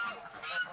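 Startled geese or ducks on a frozen, bumpy farmyard give a brief burst of loud nasal honking, close by and alone.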